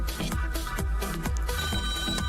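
Telephone ringing in the studio of a French-language radio call-in show, a repeated electronic ring in short pulses heard up close and alone, with no voices over it.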